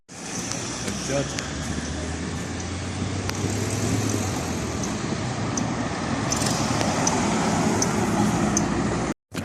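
Street traffic with a Ferrari Roma passing at Spa, a steady broad engine and road roar lasting throughout, with people talking over it.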